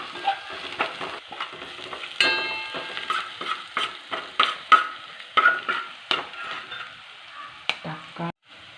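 Okra masala sautéing in a pan, a steady sizzle broken by repeated scraping stir strokes and light spoon clatter, close and fairly loud, ending in a brief pause.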